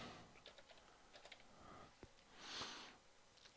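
Typing on a computer keyboard while entering text in Affinity Photo: a short run of light, irregular key clicks close by, with a few louder taps and one heavier clack, no voice.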